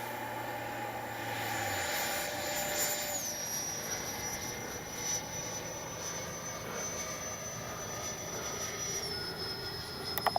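An FMS Futura 80mm RC jet airplane takes off, its ducted-fan engine a continuous high whine and roar that rises in pitch and then holds steady as the model climbs away.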